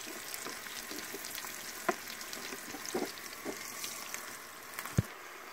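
Sliced plantain fries in hot oil in a pan, a steady close sizzle with occasional soft knocks and stirring clicks as the pieces are turned.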